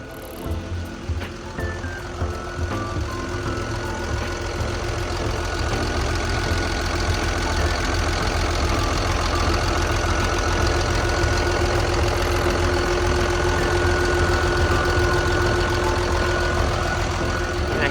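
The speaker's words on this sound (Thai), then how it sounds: "เครื่อง 6D 107เนี่ยก็จะเป็นเครื่องยนต์ 6 สูบเทอร์โบนะครับ" A Komatsu WA380-6 wheel loader's six-cylinder turbo diesel 6D107 engine idles steadily with a low, knocking rumble that stays even and continuous throughout, close by.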